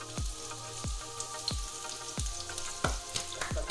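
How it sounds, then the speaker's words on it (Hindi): Finely chopped garlic sizzles in hot oil for a tadka, a steady frying hiss broken by a series of soft, regular thumps, close and continuous with no voices. "इसको डाल दें आप तड़के में।"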